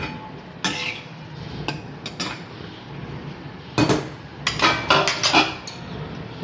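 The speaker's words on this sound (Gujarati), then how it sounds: "જરાક ચમચો ફેરવી" A metal spoon stirs tomato soup with salt and pepper in a cooking pot, making scattered clinks and scrapes against the pot in short bursts with quiet pauses between.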